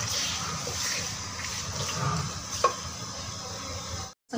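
Onion or masala being stir-fried in a pan while cooking, a steady sizzle with occasional scraping of the spoon, close and continuous, cutting out briefly near the end.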